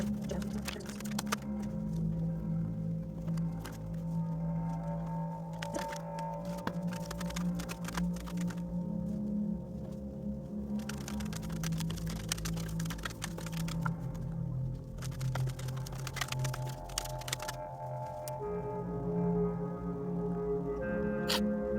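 Tarot cards are shuffled by hand for a pick-a-card reading, giving a steady run of soft riffling and slapping over a low tonal music bed, with no talk.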